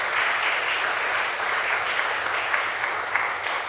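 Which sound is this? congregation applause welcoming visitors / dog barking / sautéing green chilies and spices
congregation applause welcoming visitors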